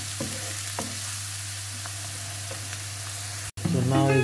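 Golden-brown onions sizzle in a pan for Goan squid cafreal, a steady close frying hiss with a few light utensil taps; a short dropout near the end gives way to a brief clatter.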